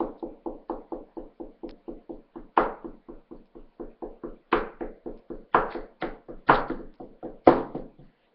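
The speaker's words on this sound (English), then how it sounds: "knock on the door, K-N-O-C-K. What is the sound?" Steady knocking on a wooden door, a long run of evenly spaced raps with several harder, louder knocks mixed in; no talking.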